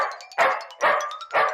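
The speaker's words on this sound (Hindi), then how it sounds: "छोटा कुत्ता बड़े कुत्ते को खदेड़ रहा है" Dogs bark in three short, evenly spaced bursts as a small dog chases a big dog, clear and fairly close with brief gaps between.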